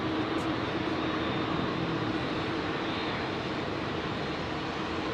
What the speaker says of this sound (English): Aer Lingus A320neo